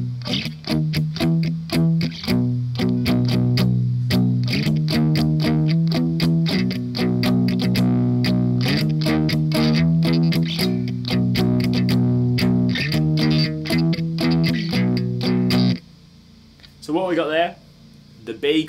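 Palm-muted electric guitar playing the verse of a song through a laptop amp simulation, distorted chugging chords in a steady driving rhythm, ending with a brief pause and a short strum.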